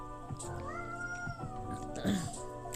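A cat in the video game Coffee Talk 2 gives a drawn-out meow, followed by shorter mewing sounds, all over steady background music.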